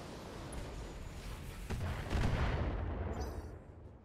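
Mech weapons firing on a target in the video game Battletech, a sustained rumbling barrage of heavy booms that swells midway and rolls on without a break before tapering off.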